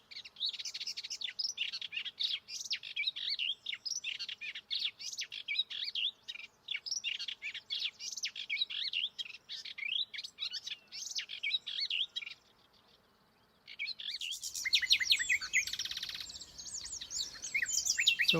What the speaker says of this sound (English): I did find the melodious warbler singing fanatically about 500 metres further along the path